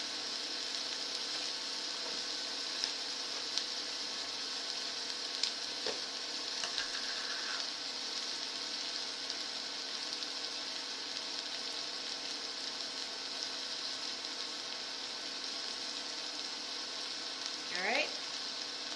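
Onion frying in a pan during a dahl and curried broccoli cook-along, a steady low sizzle running throughout, with a brief stirring scrape near the end and no talking.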